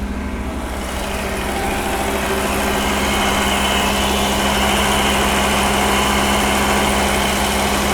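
An Audi 90 engine idles steadily and continuously after repair, with the air conditioning running and a faulty idle-control motor. The engine note is a loud, close, even rumble with a constant low hum and no speech.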